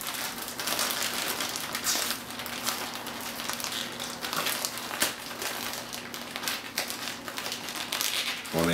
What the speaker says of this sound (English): One thing I've always been bad at is opening bags.